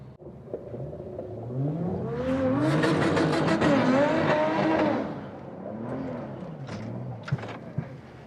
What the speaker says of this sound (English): we've got a little bit of a burnout